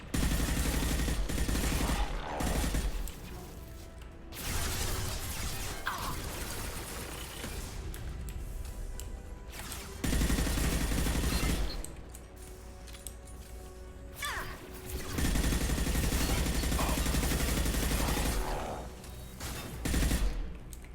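A hacked turret in Mass Effect 2 fires in sustained loud volleys that repeat in several long bursts, mixed with game effects and brief talk.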